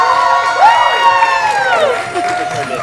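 Crowd at a Best Buddies ambassador showcase cheers and whoops for the co-hosts, with bright shouted voices rising and falling over a brief burst of noise, fairly close and loud.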